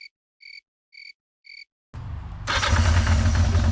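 A freshly rebuilt motorcycle engine is cranked over and catches: four short evenly spaced chirps, then a rough low churn that surges into a loud, steady running roar, close up.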